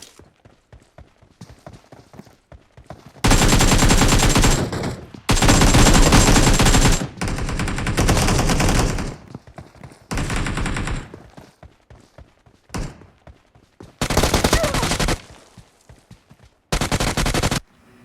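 Gunfire in a shooting video game comes as several loud rapid automatic bursts, each lasting one to two seconds, separated by quieter gaps with faint background game sounds.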